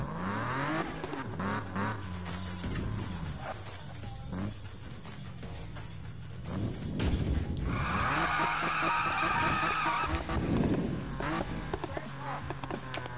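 Race cars skid and squeal across a snowy track in Need for Speed 5, tires screeching over loud, steady engine revving that swells and fades, with a voice faintly audible beneath.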